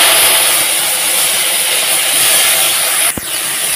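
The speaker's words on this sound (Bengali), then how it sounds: "এখন আমি এই ভেন্ডিটাকে ভেজে নেব।" Okra frying in a little oil gives a loud, dense, continuous hiss that carries on unbroken until a brief sharp knock near the end.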